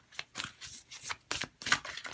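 A deck of tarot cards is riffled and shuffled by hand in about six quick, crisp bursts, close and dry with short pauses between them.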